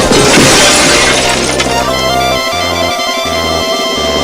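Loud glass shattering from a truck crash in a video game, a sharp bright burst at the start that rings and decays over a few seconds, with low game audio tones pulsing underneath.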